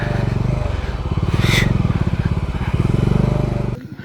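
A heavy motorcycle rides a rough off-road track near Parasnath in Jharkhand, its engine throbbing loud and close in a steady, slightly uneven pulse with light clatter, then cutting off abruptly at the end.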